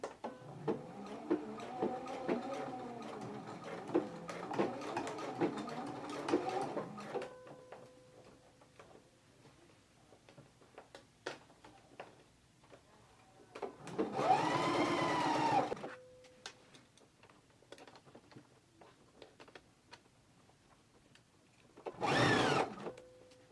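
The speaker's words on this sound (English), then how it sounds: "I'm going to begin stitching right now" A sewing machine stitches a waistband onto pants with a 5/8-inch seam allowance, running in a long steady burst, then two shorter bursts separated by quiet clicks and handling noises.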